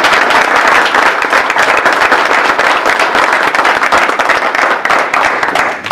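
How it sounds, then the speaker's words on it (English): Audience applause for the mayor of Hartford, Kentucky at a governor's check presentation, a dense, steady clapping crowd sustained at full strength for about six seconds before easing slightly at the end. "We ought to give her a round of applause."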